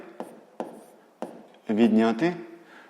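Pen scratching on paper while working a sixth-grade math exercise, a few short separate strokes near and close up, followed by a voice speaking over it.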